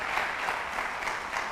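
Congregation applauding during a church service, a steady wash of clapping filling the whole moment without pause, close and fairly loud.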